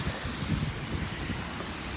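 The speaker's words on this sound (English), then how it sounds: "it's blowing a gale" A gale-force autumn wind buffets and roars steadily outdoors on a wet, rainy day, gusting against the microphone with a rushing, blustery texture and no voices.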